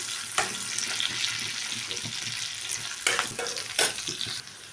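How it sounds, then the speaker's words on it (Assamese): Fennel, nigella and cumin seeds fry in hot oil, giving a steady close sizzle with a few sharper crackles and stirring scrapes throughout, and no one speaking. "আৰু এইখিনি এতিয়া মই গোল্ডেন কালাৰ নোহোৱালৈকে ভাজি থাকিম।"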